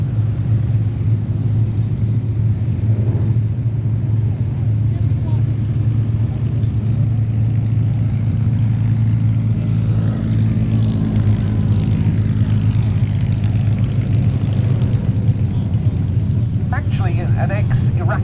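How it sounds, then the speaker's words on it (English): A Hawker Fury, an ex-Iraqi single-seat propeller biplane, drones steadily and loudly overhead at an air show, its engine hum continuous throughout while a commentator talks over it. "An ex-Iraqi Fury, a Fury ISS, Iraqi single-seat."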